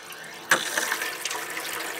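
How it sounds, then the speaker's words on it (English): Water gushes steadily from a boat's spigots as the onboard tank is drained, starting abruptly and then running as an even hiss close by. "we gotta drain the tank, so we need to go turn on all the water spigots"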